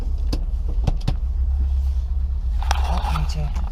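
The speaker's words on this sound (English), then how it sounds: "Car into reverse." A Ford Cortina Mk3 Estate reversing in a car park, its low engine rumble steady throughout, with a brief whirring mechanical sound near the end and a few clicks; a person speaks over it.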